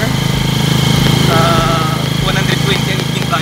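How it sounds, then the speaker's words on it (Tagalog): A motorcycle ride in Dumaguete, Philippines: a loud, steady mid-pitched engine drone close by, with rumbling road noise as the bike moves. "Nagsakay na lang ko Pacquiao sa motor."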